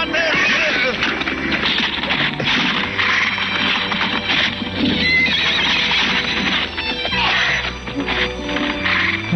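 A white horse whinnies and squeals amid a busy, loud cartoon action scene, its cries mixed with shouting voices and clattering commotion.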